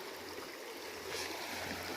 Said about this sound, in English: just listen to the water run